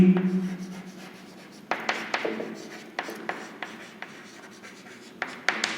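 Chalk or marker strokes on a board during an accounting class: a run of short scratching and tapping sounds in irregular bursts, close and fairly faint, with no speech over them.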